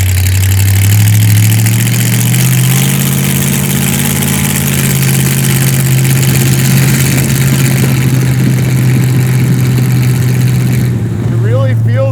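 A Willys Jeep hot rod styled after a WW2 warbird has its engine droning as it drives, a steady loud low rumble throughout with slight shifts in pitch. Excited talk runs over the engine noise.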